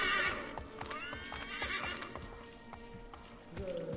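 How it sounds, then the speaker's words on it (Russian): A horse in Assassin's Creed 3 lets out a loud, shrill whinny that trails into snorts, with a steady clip-clop of hooves beneath it throughout. "Тупая английская лошадь."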